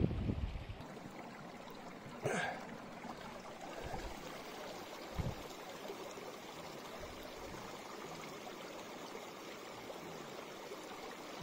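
Clear water of a mountain river at its source near Langmusi in Tibetan Sichuan, flowing in a steady, close rush with a few brief splashes and no voices.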